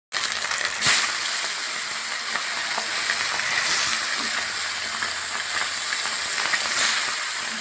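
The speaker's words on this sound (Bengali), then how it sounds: "চলো এই মাছটা ভাজবো" Snakehead fish frying in a pan, a dense continuous sizzle and spatter close up with occasional brief crackles, no talking.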